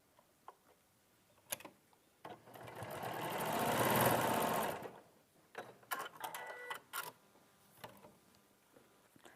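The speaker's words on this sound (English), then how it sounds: "So I'm just going to sew that one into place." A sewing machine stitching fabric pieces into place, running in one steady whirring burst of about two and a half seconds, framed by scattered clicks and handling sounds before and after.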